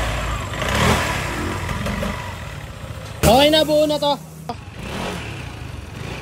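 A Yamaha XMAX 300cc scooter, fresh from a full CVT setup, revs up sharply in a short burst, its whine rising and then dropping back. Someone talks briefly before the rev.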